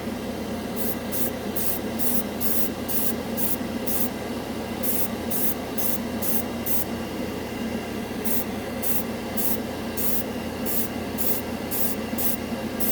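An airbrush sprays Alclad gloss grey primer as a light base coat, giving a steady close hiss of air and paint throughout, with faint rhythmic high ticking bursts over it.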